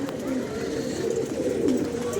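A pigeon coos in low, steady tones over a constant background murmur.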